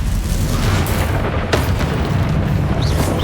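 Confringo explosive spell blast in Hogwarts Legacy, a dense low booming rumble that stays loud and continuous, with a sharp crack partway through and no voices.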